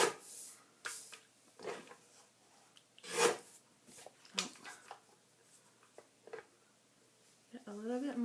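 Paper pieces for a scrapbook square block are trimmed in short, close rasping strokes and rustles, with pauses between cuts and a brief voice at the end.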